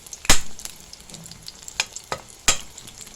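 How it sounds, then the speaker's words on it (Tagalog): Eggplant frying in a pan for dinner, giving soft steady sizzling with a few sharp crackles and pops standing out near the start and end. "Magprito tayo ng talong"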